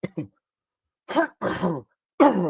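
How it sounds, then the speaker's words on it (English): One person close to the microphone gives a quick pair of short coughs, then a pause, then several deeper, phlegmy throat clears and coughs in uneven bursts. "sorry for the coughing, folks."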